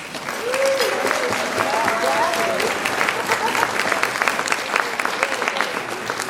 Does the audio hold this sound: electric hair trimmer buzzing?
no